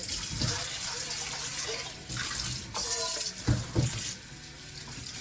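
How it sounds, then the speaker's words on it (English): Water running from a tap over small white belly shrimp in a colander, a steady rushing splash close by with brief pours and bumps, while someone talks. "I pour it in to the colander and I keep repeating."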